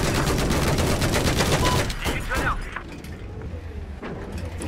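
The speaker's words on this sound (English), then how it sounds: "Oh god, it feels good to fire the M60." An M60 machine gun fires in the shooter Battlefield 4, a dense rapid burst of automatic rounds lasting about two seconds. It then trails off into quieter in-game rumble and clatter.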